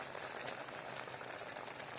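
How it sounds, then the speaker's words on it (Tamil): Aval vadai, flattened-rice fritters, deep-fry in hot oil, giving a soft, steady bubbling sizzle heard faintly on its own. "அவல் வடை பொரிஞ்சு கொண்டு இருக்குது."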